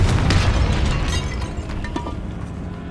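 The Confringo fire spell explodes inside a tomb in Hogwarts Legacy, a loud booming burst with a dense rumbling tail that fades over about three seconds.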